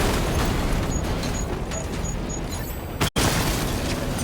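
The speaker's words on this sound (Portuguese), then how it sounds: "A explosão desativou o canhão principal." A loud, dense explosion fills the scene in the Batman: Arkham Knight video game, disabling the main cannon, with sustained broadband rumble, a brief dropout near the end, then continued blast noise.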